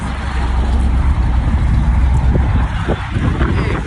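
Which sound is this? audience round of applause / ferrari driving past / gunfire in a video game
ferrari driving past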